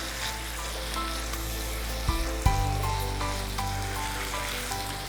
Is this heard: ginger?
yes